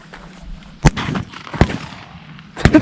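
Shotgun blasts at an opening-day dove hunt, three sharp reports spaced about a second apart, the last slightly more distant-sounding, over outdoor background noise with faint voices.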